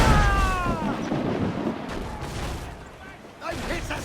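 Ship cannon fire in Assassin's Creed IV Black Flag during a naval battle: heavy booming volleys mixed into a dense rumbling wash, with a second burst near the end while crew voices shout over the din.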